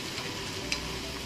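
Pork and mushrooms stir-frying in a pan with garlic and ginger give off a steady, soft sizzle, a faint continuous crackle with one small pop partway through and no talking.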